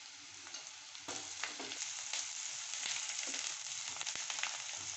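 Onions, green chilies and curry leaves sauté in a pan for flattened-rice upma. A soft, steady sizzle runs close by with light stirring clicks and scrapes, fairly quiet overall.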